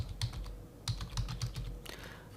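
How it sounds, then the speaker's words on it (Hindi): Typing code on a computer keyboard: a quick, close run of clacking keystrokes in an uneven rhythm, moderately loud with no voices. "अभी मैं क्या करता हूँ, इस फाइल में थोड़ा सा कोड लिखता हूँ।"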